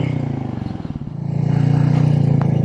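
Royal Enfield Meteor 350 motorcycle with a catalytic converter delete, ridden with a loud, close single-cylinder thump that pulses steadily, dips briefly, then builds and holds as it accelerates, with rushing wind and no talk.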